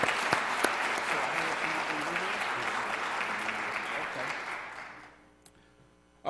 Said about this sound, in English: let's give the committee another round of applause.